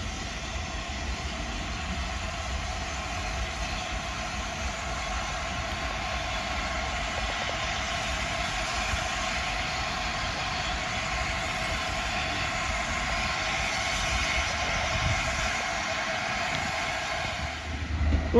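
An Avanti West Coast class 390 electric train, unit 390045, runs through Crewe station from Manchester Piccadilly toward London Euston, a sustained, fairly close rolling rumble and whine that holds steady throughout with no talk.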